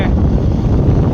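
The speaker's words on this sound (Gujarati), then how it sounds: "સરસ મજાનો પવન પણ અત્યારે આવી રહ્યો છે તમને અહીંયા સંભળાતું હશે" Wind blows across an open rural road, buffeting the microphone with a loud, continuous low roar and rustle for about a second.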